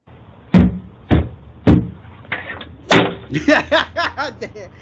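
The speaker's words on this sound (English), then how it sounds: "Now we're gonna start off with the full video of him banging on the door, whooping the door's ass." A child whips a door, sending a series of sharp, loud slaps and bangs: three well-spaced strikes, then a quicker run of blows near the end, close and distinct with no talking.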